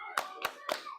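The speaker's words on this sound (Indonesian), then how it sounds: "Yuk, tepuk semangat." Children do a rhythmic spirit clap in a preschool classroom, three sharp, evenly spaced claps close by and fairly quiet, with no talk in between.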